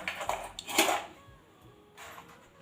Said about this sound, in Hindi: बर्तन एक जगह कर लेती हूँ, बर्तन धो लूँगी पूजा का